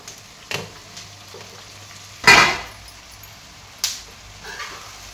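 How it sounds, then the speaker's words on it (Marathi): Chopped fenugreek greens and dal sautéing in oil with browned onion, a low steady sizzle broken by a few sharp scraping stirs, close and fairly quiet with no talking. "आणि आता ही परतून घेऊया पहिल्यांदा."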